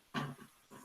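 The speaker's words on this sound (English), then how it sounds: "you might be able to hear him barking in the window already" A temperamental corgi barks inside a house by a window, one gruff bark followed by a softer second, muffled and fairly faint.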